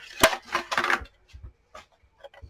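Cardboard packaging is torn off a paper trimmer in several short ripping and crunching bursts, loud at first and then fainter, scattered tearing.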